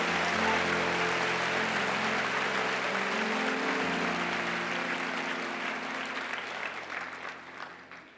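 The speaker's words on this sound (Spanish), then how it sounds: "Si va a aplaudir al Señor, apláudelo, hágalo con fuerza." A church congregation claps steadily in a dense, continuous wash of applause that holds strong, then gradually tapers off toward the end.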